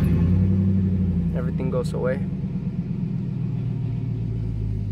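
A Chevy Silverado crew cab truck's high-mileage engine running, a low steady rumble and hum close by beneath a brief spoken phrase.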